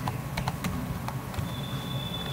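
Keys tapped on a computer keyboard in short, irregular clicks, close and fairly quiet over a faint low hum, with a few separate keystrokes scattered across the stretch and no speech.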